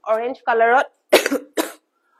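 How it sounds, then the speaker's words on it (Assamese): A brief voiced sound is followed by two harsh, close coughs in quick succession, loud against a quiet background. "কাহি থকা কাৰণে ৰিয়েলি সৰি উপায় নাই"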